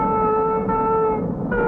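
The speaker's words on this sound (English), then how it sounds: "Take a look at that new turbo train." A new turbo passenger train sounds a steady, loud set of sustained tonal notes, briefly dipping and shifting pitch near the end, heard alone with no talking.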